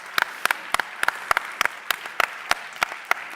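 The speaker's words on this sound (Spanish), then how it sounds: "merecéis un aplauso a vosotros" Sparse, scattered hand claps from a small audience at the IND+I 2024 presentation, a dozen or so distinct sharp claps spread unevenly over a few seconds, fairly quiet with no talking.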